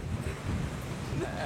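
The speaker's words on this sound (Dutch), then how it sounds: "het waait aan orkaan" Strong, gusty gale-force wind on a blustery street in Leeuwarden buffets the microphone with a steady low roar throughout, with a voice briefly audible beneath it.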